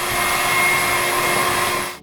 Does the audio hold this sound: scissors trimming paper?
no